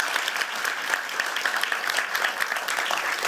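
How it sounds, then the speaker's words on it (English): An audience applauds the mayors of US cities such as Suisun City, California, at a public event: a steady, dense round of clapping that holds at an even level throughout, with no talking over it. "Can we give them all just a round of applause?"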